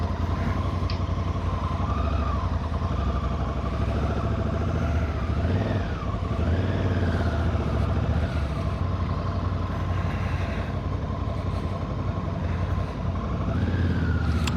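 Honda CRF 1100L Africa Twin 2026 motorcycle riding along with a steady engine drone and wind noise, pitch rising and falling with gear changes, close and continuous.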